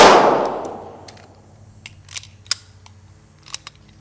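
A SIG MK25 pistol makes a sharp metallic clang as its slide locks back, followed by a fading ring and then several small clicks and clacks of a magazine change, close and crisp with no talking.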